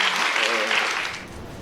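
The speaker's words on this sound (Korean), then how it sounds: "최 전 의원 발언에 객석에선 박수도 나왔습니다" An audience in a seated hall breaks into brief, dense applause, steady clapping that fades slightly toward the end.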